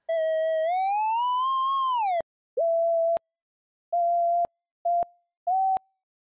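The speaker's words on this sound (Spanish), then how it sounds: "estos son circuitos electrónicos que producen sonidos de acuerdo a ciertas señales eléctricas" Electronic oscillator tones from Chrome Music Lab: a long pure tone that bends upward and back down, then four short steady beeps at a similar pitch with gaps between, clean and alone.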